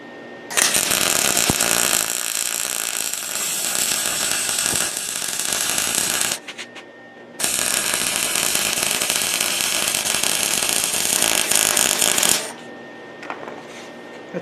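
Lincoln 140T wire welder on heat setting D with wire speed about 2.5, laying a bead to build up the edge of a rusty railroad-track anvil; loud steady crackling buzz in two long runs separated by a brief pause.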